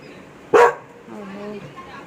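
A single sharp bark from a dog rings out nearby, followed by a soft low whine as the sound settles.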